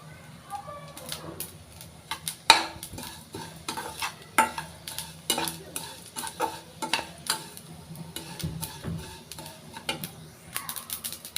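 Coriander seeds and other spices dry-roasting in a pan for homemade curry leaf powder crackle and pop in a dense, irregular run of sharp clicks, with occasional scraping stirs throughout.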